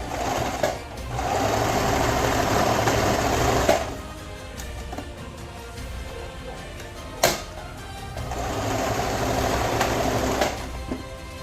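A sewing machine stitches straight down a seam on a homemade plate carrier, running in two long steady bursts with a quieter pause and a sharp click between them, close and clear with no talking.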